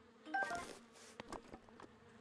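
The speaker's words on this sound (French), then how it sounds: "des abeilles d'un coup" Bees buzzing in The Legend of Zelda: Breath of the Wild, a faint insect drone with a few brief game sound effects, no talking.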